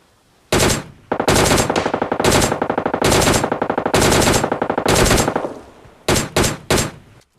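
Loud bursts of automatic gunfire from the PUBG Mobile Lite video game, several long rapid-fire strings followed by three short quick bursts, with no voices.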